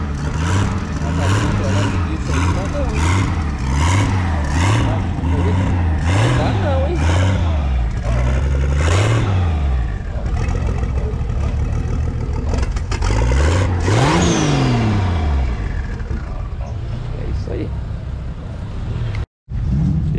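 A Chevette Marajó fitted with a turbocharged 4.1 Omega Fueltech-injected engine revs repeatedly, rising and falling in quick pulses and then one longer climb. Someone talks loudly over the engine.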